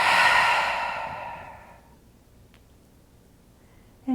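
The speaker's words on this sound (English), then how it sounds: "take a deep inhale through the nose, fill up in the belly, and exhale out the open mouth" A single deep exhale through an open mouth during a yoga cool-down, a soft breathy rush that fades over about two seconds and leaves near silence.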